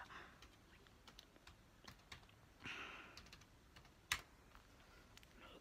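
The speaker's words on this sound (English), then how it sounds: "Let's click my password in." Fingers type a password on a MacBook Pro keyboard, a faint run of soft, quick key taps close by, with one sharper click standing out near the end.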